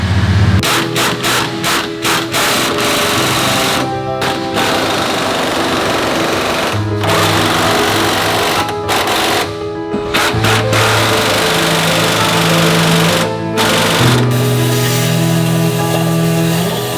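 A power tool drives the body mount bolts on a 2007-2013 Chevy Silverado 1500 with a 3-inch body lift, a steady loud mechanical rattling drone with humming tones that shift in pitch and brief breaks throughout.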